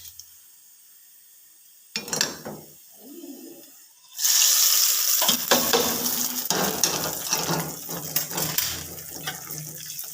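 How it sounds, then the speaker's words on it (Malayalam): Tempered mustard seeds in hot oil poured into a bitter gourd theeyal curry sizzle loudly and steadily, after a few quieter clinks and stirring sounds, with the frying hiss filling the rest of the clip. "കടുക് താളിച്ചത് മൂത്തിട്ടുണ്ട്. ഇത് കറിയിലേക്ക് ഒഴിച്ചു കൊടുക്കാം."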